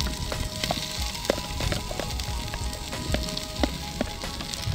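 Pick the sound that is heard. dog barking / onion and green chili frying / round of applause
onion and green chili frying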